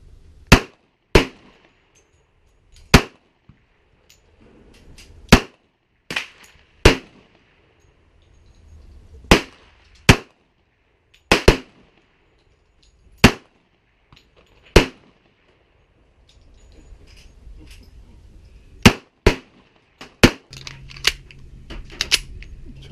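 A Smith & Wesson 1911SC pistol with a scandium frame fires a long series of sharp, cracking shots at a range, single reports at uneven intervals, some in quick pairs, loud and close.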